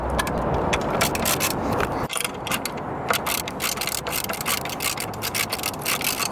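Wrench working on drone brackets, rapid close ratcheting clicks in dense repeated bursts with a brief pause around the middle.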